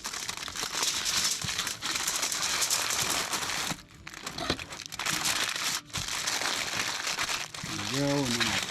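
Paper crinkles and rustles up close as a trout is wrapped for cooking, with steady crumpling over most of the stretch, a couple of brief pauses and a voice briefly heard near the end.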